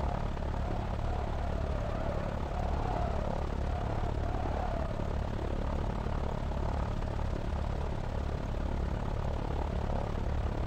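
An aircraft engine in the X-Plane flight simulator as the plane taxis on a runway, a steady loud low propeller drone that holds unchanged throughout with no talking.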